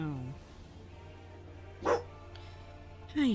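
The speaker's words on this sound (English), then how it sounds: "What are you barking at?" A pet dog barks indoors in short yelps, one near the start, a louder bark around the two-second mark, and another at the end, while a person talks over and between the barks.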